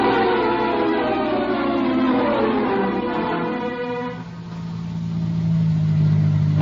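A car engine runs steadily in a radio drama sound effect, a continuous low drone with a brief dip and swell partway through, with no voices over it.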